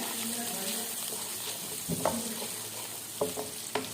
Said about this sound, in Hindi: अब आपने 1 चम्मच इसके अंदर लहसुन का लेना है भर के। इसको थोड़ा सा हम फ्राई करेंगे।